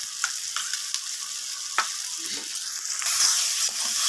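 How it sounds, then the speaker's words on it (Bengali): Garlic paste sizzles and fries in oil with spices for chicken curry, a steady close hiss broken by scraping stirs and soft clacks of the spoon, swelling louder near the end. "রসুন বাটাটা দিয়ে আমি মশলাটা ভালো করে কষিয়ে নিচ্ছি"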